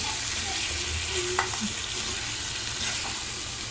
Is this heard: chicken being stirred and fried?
yes